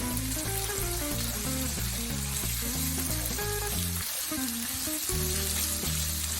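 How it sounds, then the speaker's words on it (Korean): Pork, squid and shrimp stir-fry in a pan with a loud, continuous sizzle. Tonal music plays throughout and partly masks the frying. "고기가 익으면 오징어와 새우를 넣고 살짝 더 볶아주세요"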